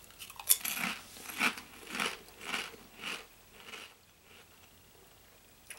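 Quest Protein sour cream and onion potato chips being eaten, six close crunchy bites and chews in a steady rhythm that fade toward the end, no talking.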